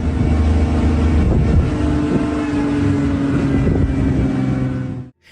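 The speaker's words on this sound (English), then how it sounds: "The forest echoed with the sounds of the car's engine" A car engine droning steadily and loudly during a chase after a rhino through a forest, a continuous close rumble that cuts off abruptly at the end.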